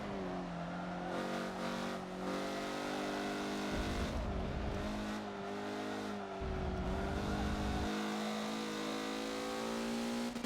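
A race car in Forza accelerates out of the hairpin at Suzuka. The engine drones steadily, its pitch climbing through the gears with brief shift dips, loud and close throughout.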